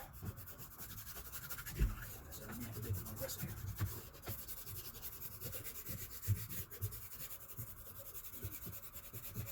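Old rubber gasket residue is scraped off the intake manifold of a 3.5L EcoBoost engine, producing a continuous close-up rasping and scratching with small irregular knocks throughout.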